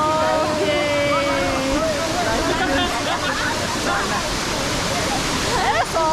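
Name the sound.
Bahubali waterfall flowing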